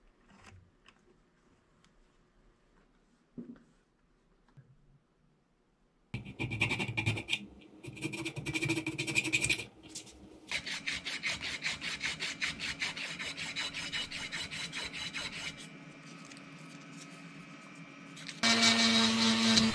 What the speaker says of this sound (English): infiling and sanding the surface of the lens holder